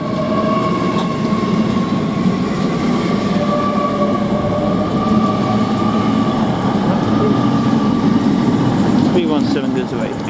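Great Western Railway Class 800 train departing Reading station for Exeter St Davids: a steady loud rumble and hum throughout, with faint rail clicks near the end.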